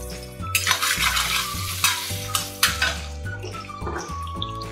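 Shallots sizzle as they fry in hot coconut oil in a pan, with steady stirring and scraping of a spoon against the metal and a few clinks of utensils, close and moderately loud, no talking.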